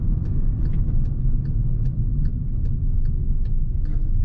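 A big-turbo GLI car driving on the road, with a steady low engine and road rumble that holds at a constant level and has faint ticking above it.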